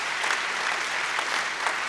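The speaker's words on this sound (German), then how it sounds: "Ich bin Ihnen sehr dankbar für diesen Beifall" An audience at an FDP party convention applauds, a dense, steady wash of clapping hands that holds at a constant level throughout.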